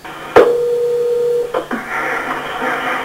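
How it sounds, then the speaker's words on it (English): A police radio dispatch places a phone call, a single sharp click followed by a steady, loud dial-tone-like hum for about a second, then line noise and hiss as the call connects. "A second contact was made via a second phone call from radio dispatch."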